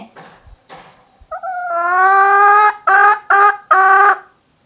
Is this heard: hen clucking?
yes